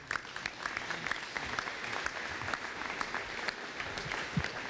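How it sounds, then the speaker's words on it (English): A crowd at a 2014 aviation rally gives a standing ovation, a dense, sustained wash of clapping with sharper individual claps standing out, loud and continuous throughout. "I just love it when the organizers build a standing ovation in to the crowd"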